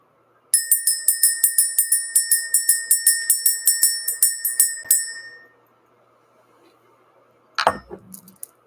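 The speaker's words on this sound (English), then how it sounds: "Let's ring this bell." A bell is struck repeatedly in a quick, even series of bright ringing tones for about five seconds, each strike decaying into the next, followed by near silence and then a brief clattering knock.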